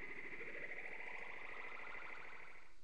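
A synthesized dub siren tone sweeps in a rising warbling wail, steady and continuous at a moderate level with no other sounds.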